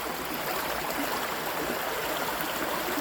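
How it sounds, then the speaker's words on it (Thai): Strong rushing water from a fast stream, a continuous loud roar and gurgle, close and unbroken throughout. "น่ากลัวนะเสียงน้ำไหลแรงมากเลย"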